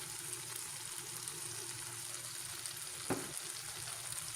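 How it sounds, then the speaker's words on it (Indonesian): Ikan cue fish with oyster sauce and sweet soy sauce sizzles steadily in a hot pan while being stirred, with a single sharp scrape of a utensil against the pan near the end. "Diaduk-aduk kembali sampai bumbunya tercampur"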